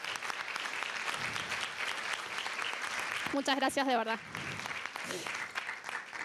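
An audience applauds steadily throughout, a dense crackle of many clapping hands filling the room, while a speaker briefly talks over it near the middle.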